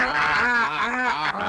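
Cartoon birds in an animated film call out together in loud, honking, goose-like cries that overlap in a continuous, wavering chorus close at hand.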